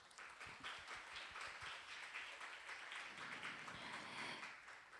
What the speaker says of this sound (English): ladies and gentlemen, let's give them another big round of applause